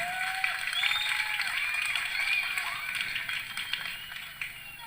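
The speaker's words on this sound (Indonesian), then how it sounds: "Tepuk tangan." Applause and cheering from an outdoor audience at a Sasak cultural performance in Lombok, a sustained crowd clapping with whoops, heard alongside an announcer's voice and whistling tones.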